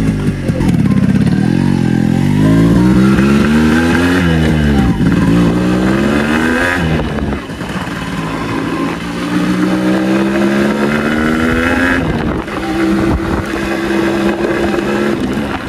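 A Yamaha RX motorcycle engine runs loud and close, revving up and down repeatedly with a raspy, throbbing exhaust throughout.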